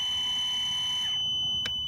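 An electric reversing and parking motor system on a 2002 Kawasaki VN1500 motorcycle sounds a steady, high-pitched electronic buzzer tone that cuts off about a second in. A short beep follows it.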